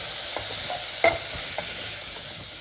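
Close-up sizzling in a hot pan with a few scraping stirs of a spoon through wheat rava kichadi, no voices.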